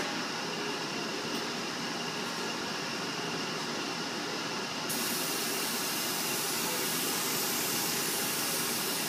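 Activator sprays onto hydro dipping film floating on water, a steady close hiss that grows brighter and louder midway through and then holds evenly, with no talking.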